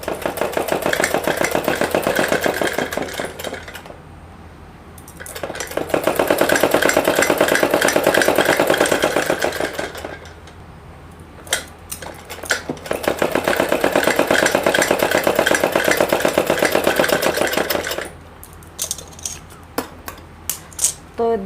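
A sewing machine stitches salwar panels and kali pieces together in long motorised runs of rapid, droning needle chatter, separated by pauses with short bursts and clicks, loud and close.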